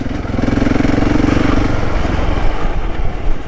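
A Husqvarna 701 Enduro motorcycle engine runs close by on Yorkshire green lanes, a loud, steady low throb with a rapid pulsing rhythm that shifts slightly in pitch partway through.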